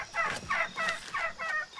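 A turkey gobbles in quick, rattling bursts, several calls in a row at moderate volume, in the video game Shadow of the Tomb Raider.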